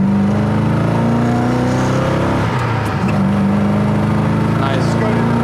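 A 1967 Ford Mustang 390 S Code accelerates hard through the gears, a loud close engine roar that dips briefly at a shift and then climbs again, with voices talking over it.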